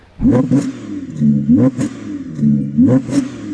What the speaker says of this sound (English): this is what the Audi R8 sounds like